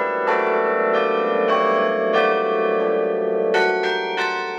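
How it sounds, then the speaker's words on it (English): Baylor University's carillon rings out a slow melody, bright tuned bell strikes with long overlapping ringing decay, loud and unaccompanied. "to have the bells in this building gives it a voice."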